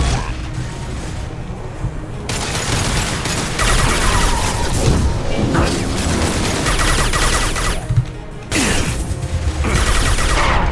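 Flashbang grenades going off during a firefight in Mass Effect 2, a dense burst of bangs and crackling mechanical noise running almost continuously, with brief gaps near the end.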